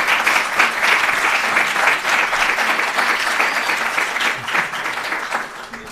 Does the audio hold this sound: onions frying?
no